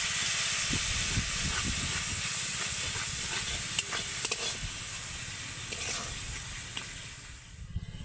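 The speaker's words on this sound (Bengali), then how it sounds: "এবার আমি মশলাটাকে ভালো করে কষিয়ে নেব" Spice masala with a little water sautéing in a pan, a steady close hiss and sizzle with scraping stirs that slowly fades toward the end.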